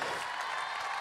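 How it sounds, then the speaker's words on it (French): Applause from the audience greets the mayor of Dijon, François Rebsamen, at an event opening in Dijon, a dense steady wash of clapping that stays loud and unbroken for the whole second. "applaudissements."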